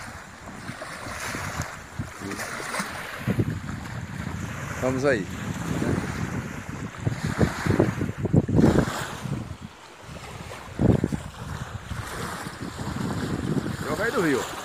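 A boat moves along the Tietê river near a port, its motor and water churning beneath gusting wind buffeting the microphone, while someone speaks Portuguese briefly over the continuous rumble.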